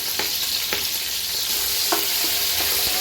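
Raw onion hits hot oil already crackling with mustard seeds for a fish curry, giving a steady bright sizzle with a few sharp pops and stirring scrapes, close and loud with no talk.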